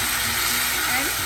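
Grated tomatoes hitting hot oil already seasoned with cardamom and bay leaves for a potato curry, giving a steady, close broadband sizzle that holds evenly throughout with no talking.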